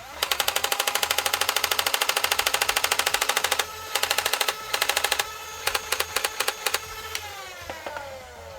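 A JakMean 20-round flywheel Nerf blaster firing darts in rapid, evenly spaced full-auto bursts, loud and close, then shorter bursts and single shots before the flywheel motors whine down.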